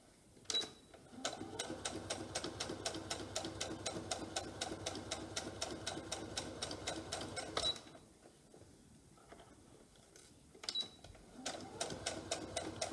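Domestic sewing machine running a straight topstitch at 2.5 stitch length on a shirt collar, a fast steady mechanical chatter of needle strokes, close and loud, pausing briefly before resuming.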